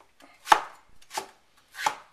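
A knife dices eggplant on a cutting board with three distinct chopping strokes spaced about two-thirds of a second apart, each one crisp and close.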